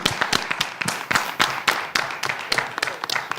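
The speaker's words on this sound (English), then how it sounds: "I want everybody to applaud this man." An audience claps in a lively, uneven burst of applause, individual hand claps distinct and fairly close, continuing throughout without talk.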